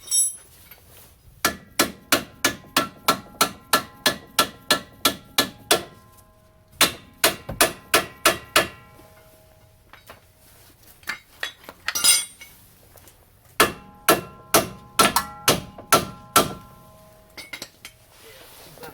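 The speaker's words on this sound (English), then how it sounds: "That one I can go ahead and just hammer home." Sharp metallic hammer strikes ring out in quick rhythmic bursts while hammering a part home during a strut and sway bar link install on an Impala, several series of blows separated by short pauses, close and clear.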